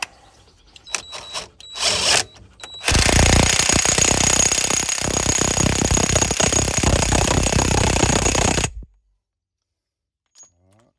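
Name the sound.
impact wrench tightening driveshaft nut on Citroën C5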